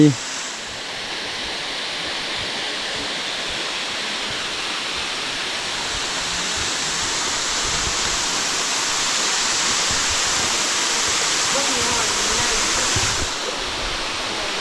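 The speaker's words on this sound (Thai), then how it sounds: "น้ำตกสวยงาม สูงกับประมาณ50เมตร" Loud, steady roar of a waterfall about 50 metres high, a constant rushing wash of water that barely changes from start to finish.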